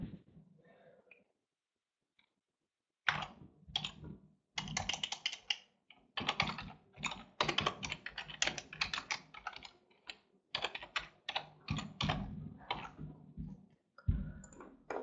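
Typing on a computer keyboard to enter an email subject in accounting software: after about three seconds of quiet, quick close keystroke clicks run in steady bursts with brief pauses.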